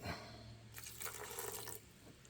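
Starchy reserved pasta water splashes and trickles into a pot in a short, soft pour, close by and quiet.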